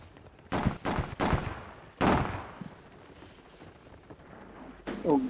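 Gunfire in the video game Warzone 3, Plunder mode, with several sharp shots and bursts coming in quick succession early on and another burst near the end, loud against a background of game ambience.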